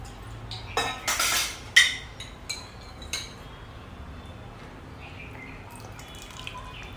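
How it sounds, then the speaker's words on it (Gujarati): Water goes into paneer masala gravy in a pan, with a short pour and splash followed by a few clinks of a utensil against the pot, close by, then quiet. "થોડું એની અંદર પાણી ઉમેરી લઈશું."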